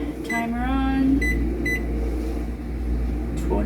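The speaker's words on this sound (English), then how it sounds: "Put my timer on." A kitchen timer is set while sauce simmers on the stove: a few short electronic beeps and a brief tone sound near the start, over a steady low kitchen hum.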